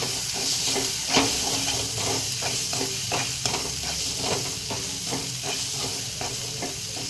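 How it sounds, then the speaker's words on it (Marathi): Turmeric and coriander powder sautéed in hot oil in a pan for a pigeon pea kachori filling, giving a steady close sizzle with soft stirring scrapes throughout. "एक चम्मच हळद टाकले आणि एक चम्मच धनिया पावडर परतून घेते त्याला"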